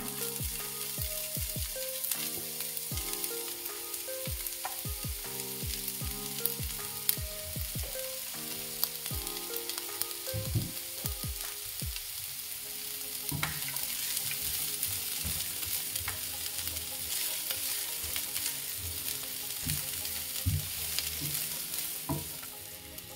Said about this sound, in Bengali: পেঁয়াজটা আমি 1 মিনিটের মতো একটু ভাজা ভাজা করে নিয়েছি